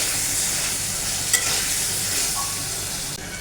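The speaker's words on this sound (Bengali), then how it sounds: "এখন আমি দিয়ে দেবো শুটকি মাছ। এটাকে আমি ভালো করে কষিয়ে নেব।" Dried fish being stir-fried in a cooked spice paste in a pan, a steady close sizzle with scraping and stirring, no voices.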